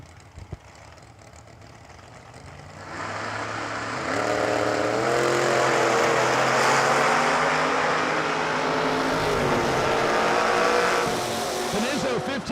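Drag race cars, a 1965 GTO and a 1967 Mustang, rev loudly then launch, engines rising to a sustained roaring howl with shifting pitch, close and loud, with an announcer talking over them.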